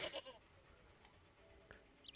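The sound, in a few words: goat bleating in Broken Sword video game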